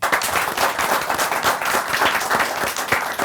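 A studio audience applauds a guest on a business talk show, with dense, continuous clapping from a small crowd that stays loud and even for the whole stretch.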